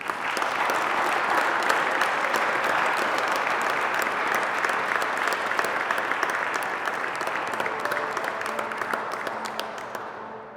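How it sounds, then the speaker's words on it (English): An event audience gives a long, dense round of applause that holds steady for about ten seconds and then fades slightly, with faint voices underneath. "Let's give him another round of applause"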